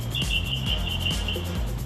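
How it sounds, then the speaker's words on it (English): Small birds chirp in short, repeated tweets outside a screened patio, heard against a faint steady background hum. "You can even listen to the birds from here."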